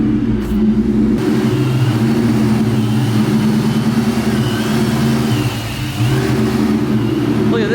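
A car engine fitted with a Vortech V3si intercooled supercharger and not yet tuned runs loud and close with a lumpy, throbbing idle, holding steady with slight fluctuations and a small dip near the end.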